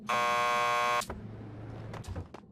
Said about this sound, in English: Just press the buzzer by the door.